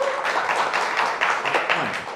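Studio audience applause fills the room, a steady patter of many hands clapping throughout at moderate loudness.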